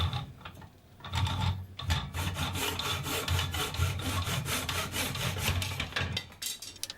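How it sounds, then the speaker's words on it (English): A Nobex manual miter saw cuts fine MDF beading in quick, rasping back-and-forth strokes at close range, with a brief pause early on and then a steady run of sawing and no talking. "I'm going all old school and breaking out my Nobex manual miter saw to cut this very fine beading to"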